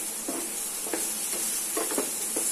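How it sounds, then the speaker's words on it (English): Tomatoes frying in a pan for a pasta masala curry give a steady soft sizzle, punctuated by several quiet scraping stir strokes at irregular intervals, close and fairly faint, with no talk. "Fry nicely."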